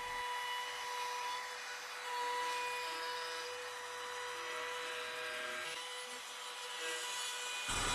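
A small trim router cuts through a 1.5-inch solid timber board while shaping a curved cutting board, giving a steady high-pitched whine with a continuous rasp of wood for the whole stretch.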